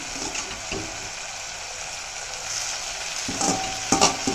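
Drumstick leaves sautéing with tomato and onion in a hot pan give a steady close sizzle with occasional scraping stirs, building to a few louder clatters near the end.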